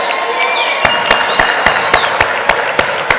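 At a Moroccan party rally, an audience claps in a steady rhythmic beat, loud and close, over a murmuring crowd.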